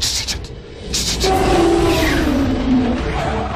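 A loud five-cylinder Audi race-car engine roars, then its pitch slides downward as the driver lifts off the throttle, ending in a rough, burbling drone.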